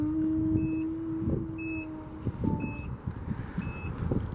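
Power trunk of a 2009 Nissan Murano LE AWD closing, with repeated short electronic beeps at a steady pace over a low motor hum and faint background traffic noise.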